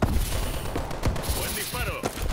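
Rapid bursts of gunfire from a first-person shooter game in a Domination-style match, sharp cracks packed closely together and fairly loud, mixed with other game effects and a voice talking.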